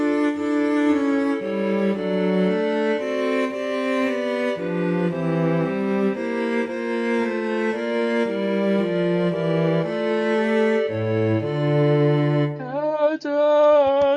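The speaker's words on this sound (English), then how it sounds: "So if we add a pan flute realization to this" A MuseScore pan flute playback of a continuo realization plays a smooth sequence of sustained, breathy notes in a steady stepwise line, with a brief wavering tone near the end and no talking.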